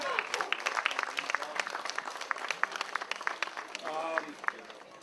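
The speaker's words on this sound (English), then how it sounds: "please give them a round of applause for our cooks" Crowd at an outdoor Labor Day picnic claps for the cooks, a scattered burst of hand claps of moderate loudness with a voice speaking over it.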